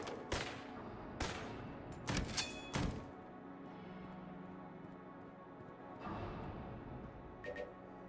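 Gunshots in Enter the Gungeon sound as sharp, separate cracks: one early, another about a second later, then a quick cluster of shots, with softer thuds trailing off at a low level.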